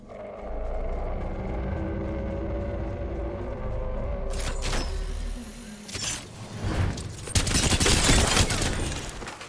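Automatic weapon gunfire in the video game Apex Legends, with loud bursts of rapid shots breaking in midway over a steady game background and growing heavier and denser toward the end.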